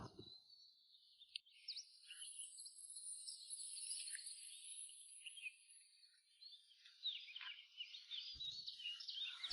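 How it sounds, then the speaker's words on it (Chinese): Birds chirp and trill continuously in the morning countryside of Nahui village below Wanfenglin, Guizhou, heard from a balcony. The song is faint and distant, with insect-like chirring. "从阳台上就能够听到田园里传来的鸟鸣。"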